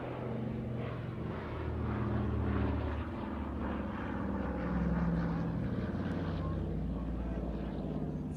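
A Douglas Dakota aircraft flies over an airshow, its steady propeller-engine drone continuous and fairly loud, with a commentator's voice talking over it throughout.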